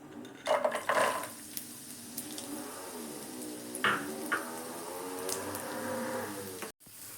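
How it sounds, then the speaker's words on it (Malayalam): Sliced coconut fries in coconut oil in a kadai for a Kerala chicken curry, a soft steady sizzle with a few faint scraping stirs and clinks, no talking. "ഇനി ഇത് നമുക്കൊന്ന് വറുത്തെടുക്കാം"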